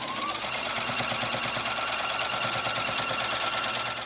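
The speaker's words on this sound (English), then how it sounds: "You're going to sew a 1/4 inch seam on either side to hold the pleats in place" A sewing machine runs steadily, stitching quarter-inch seams through the pleats of a cloth face mask; the rapid needle chatter is close, continuous and fairly loud, with no talking.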